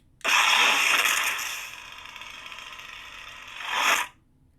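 A Kylo Ren-style crossguard lightsaber with CFX sound board and Neopixel blade ignites in a loud, steady roaring hiss that holds for several seconds, then swells briefly before cutting off sharply.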